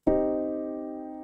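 A single minor triad chord is struck once and left to ring, its notes sustaining cleanly and fading slowly with no talk.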